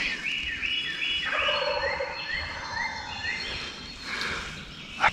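Wild turkey gobbling in the woods during a spring bowhunt, a series of loud rattling gobbles at moderate distance over faint outdoor ambience, with no talking.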